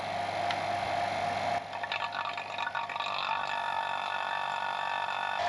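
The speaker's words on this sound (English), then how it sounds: "Plug the vacuum pump in and then turn her on and open up the valve here." Vacuum pump humming steadily during a heat pump A/C install, a close, even mechanical drone with a brief shift in tone partway as a valve is opened.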